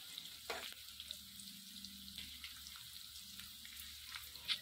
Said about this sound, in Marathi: भेंडी नंतर मध्यम आचेवर फ्राय करायची आहे.